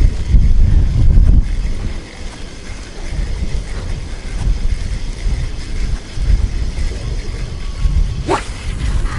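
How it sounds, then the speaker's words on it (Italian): Wind buffets the microphone at an outdoor trout fishing spot with loud, rumbling low gusts that rise and fall throughout, strongest at the start, with a brief clatter near the end. "Cazzo di vento."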